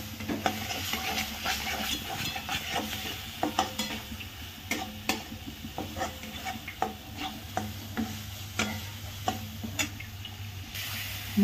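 Masala seasoned with a heavy dose of chili powder is stirred and roasted in a hot pan, giving a steady sizzle with repeated scraping and clinking strokes of the spoon, close and moderately loud with no talking.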